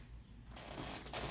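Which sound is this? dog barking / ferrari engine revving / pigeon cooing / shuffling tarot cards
shuffling tarot cards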